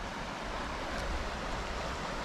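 Muddy water rushes at a dam intake in Crimea, a continuous loud, hissing roar with no break.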